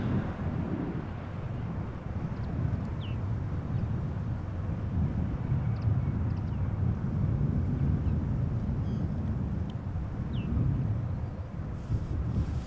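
A steady low rumble of an Embraer 190 airliner on runway 06 at Amsterdam Schiphol Airport, heard from a distance outdoors and mixed with wind noise for the whole stretch, with no talk.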